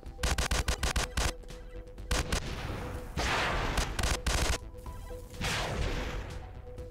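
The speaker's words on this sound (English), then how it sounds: "I think I just wasted all my rockets on him." Rapid volleys of explosive rocket fire in the multiplayer shooter Miner Meltdown, loud and close, bursts of sharp blasts with crashing impacts in quick succession, then a few heavier booms spaced apart.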